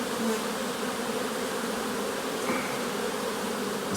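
Honeybees buzz continuously around an open hive in the garrigue, a dense steady drone of many insects close by with no talk over it.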